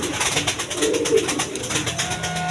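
A pair of Sirazi Lahori pigeons coo close by in soft, repeated throaty calls, over a low background murmur.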